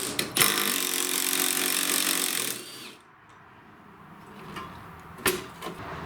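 A 3/8 impact wrench removing a pulley nut on a lawn tractor, a loud close buzzing rattle for about three seconds, then quiet with a few handling clunks from the tool and parts.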